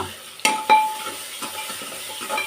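Onions sautéing in a pan, with a couple of sharp utensil knocks against the pan followed by soft stirring scrapes over a quiet, steady sizzle, close by.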